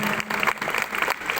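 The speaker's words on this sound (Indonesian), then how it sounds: "Nah, artinya tepuk tangan dulu." Audience applause at a school talk by prosecutors, a dense steady clatter of many hands clapping close by for the whole moment, with a faint steady hum underneath.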